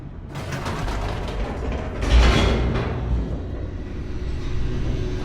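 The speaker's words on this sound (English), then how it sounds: "The elevator raced downward, plummeting towards an unknown fate." Elevator mechanism in The Stanley Parable video game descending, a steady mechanical rumble with grinding, ratchet-like creaks and a brief louder surge midway, continuous throughout.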